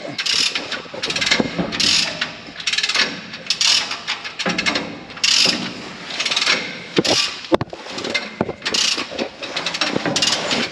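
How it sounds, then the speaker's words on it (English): Come-along ratchet winch cranked in a farm workshop to jack up the back of a homemade rock picker, giving rapid repeated metallic clicking in uneven bursts with short pauses, loud and close. "He's got the come along."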